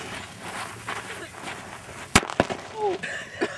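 A lit firecracker goes off with a sharp, loud bang, followed by a second crack and smaller pops, set against outdoor background noise with people talking around it.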